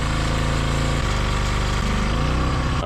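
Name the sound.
drill spinning engine oil pump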